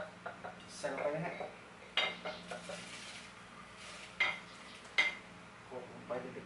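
Shrimp paste being pounded in a mortar in a Thai kitchen: irregular knocks and clinks of pestle on mortar, close and moderately loud, with a few sharp taps standing out and someone talking intermittently over it.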